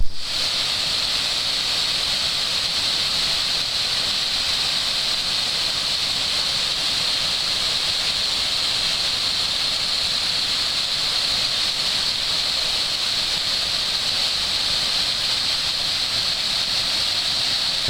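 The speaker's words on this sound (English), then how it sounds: "It's a cascading waterfall into a brook." A cascading waterfall pours into a brook at Cascade Falls, Maine, in a constant, full rushing roar, unbroken and close, with no voices over it.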